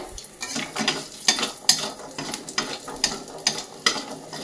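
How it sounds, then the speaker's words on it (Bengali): Bori (lentil dumplings) frying in hot oil, a steady busy sizzle with intermittent sharp clinks and scrapes of a stirring utensil against the pan, close and continuous. "এই তেলের মধ্যে এবার বড়িগুলো ভেজে নেব।"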